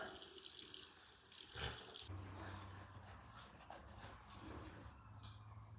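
Water gushes from a tap for about two seconds, then falls to a softer trickle and light splashing in the sink, with faint scattered handling noises and no talk.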